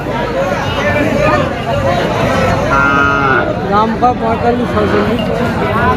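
A Sahiwal cow moos loudly and close at a busy cattle market, with a crowd talking around it and a voice over the call.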